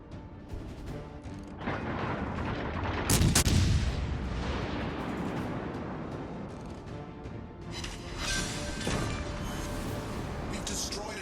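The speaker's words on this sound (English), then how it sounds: "We've destroyed an enemy battleship." Heavy battleship gunfire in World of Warships Legends, the USS Nevada firing amid dense, rumbling booms and one sharp loud blast, continuous and loud throughout, with a voice talking over the battle.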